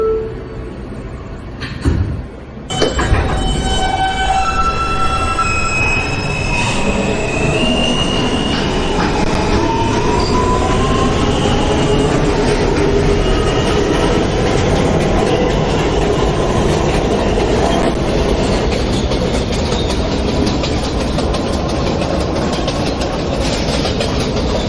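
A Manhattan-bound J local subway train rolls along at speed, its wheels squealing in long rising and falling tones over a steady loud rumble and rhythmic clatter of rail joints, heard from inside the car.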